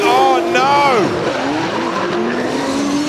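A drift car slides through a corner at Pukekohe Raceway during a D1NZ drift series round, its engine wailing in sweeping pitch changes over loud continuous tire squeal, with a commentator talking over it.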